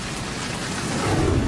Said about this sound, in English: they dumped this massive hail right on the beach